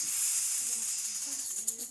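A voice imitates a snake, producing a steady breathy hiss that runs for nearly two seconds at close range with no other sound.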